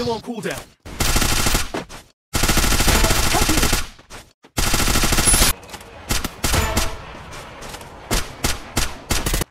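Bursts of automatic gunfire from the battle royale video game Garena Free Fire, fought near a factory and clock tower, with loud rapid volleys separated by brief silences.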